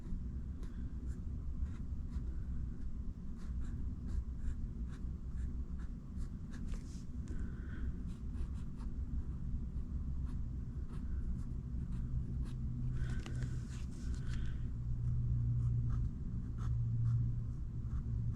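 A pen scratches across paper while someone draws small dice, making a steady close-up scribbling texture with short strokes and pauses over a low background hum.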